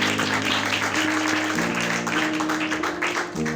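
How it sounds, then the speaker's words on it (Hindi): A church congregation at a Christmas service gives loud, sustained applause with steady clapping under sustained keyboard notes that shift in pitch. "आइए जोरदार तालियां खुदा जैसे के लिए"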